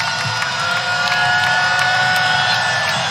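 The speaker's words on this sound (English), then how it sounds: "Crowd getting into it is Georgia Tech" Fans at a Georgia Tech women's basketball game against Virginia roar in a steady, loud arena cheer, with shouts and whoops mixed into the crowd noise.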